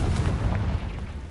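Rumbling blast from the Confringo fire curse in Hogwarts Legacy, a loud low boom with crackling debris that stays heavy and then tails off slightly, no talk.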